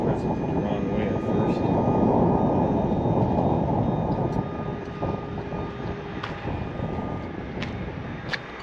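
A GS Gen 4 hydraulic frame raises a 2022 Grey Wolf 21GP fish house with a loud, steady hydraulic pump drone and motor whine that eases slightly partway through, with faint clicks near the end.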